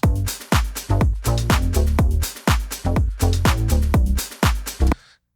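A punchy kick drum thumps in a steady pattern, each hit swallowing a sustained low synth bass note that swells back between beats, as without sidechain compression.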